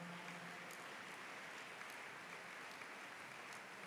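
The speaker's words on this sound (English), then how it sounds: "Keep clapping, brethren" A large congregation at a Holy Ghost Festival of Life gathering in London claps hands in a steady, dense wash of applause, heard faintly and at a distance with no speech.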